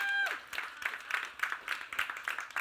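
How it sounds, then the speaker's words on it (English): An audience at a company meeting claps for a retiring colleague, a short burst of scattered, fairly sparse hand claps at moderate distance, with a brief tone at the start. "Who clapped? Clap again, because he's awesome."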